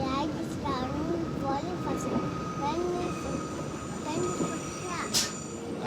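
A train rolls by on rails in Greece with a continuous rumble and occasional high wheel squeals, while voices talk nearby.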